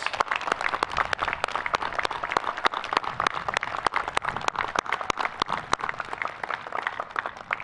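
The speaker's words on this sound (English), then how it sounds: "Please join me in a round of applause." Sustained applause from a large crowd at the U.S. Coast Guard Academy commencement ceremony, with dense, steady clapping throughout and no speech over it.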